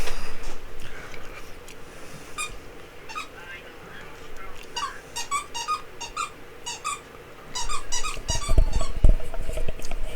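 A squeaky toy squeaks repeatedly in quick bursts in the background, with intermittent clattering and a louder rumble near the end.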